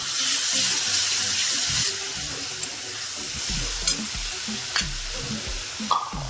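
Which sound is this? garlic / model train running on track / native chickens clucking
garlic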